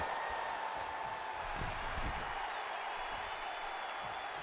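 Dense, steady crowd roar in the WWE 2K24 wrestling video game, with a broad wash of cheering that holds throughout, loud and continuous with no pauses.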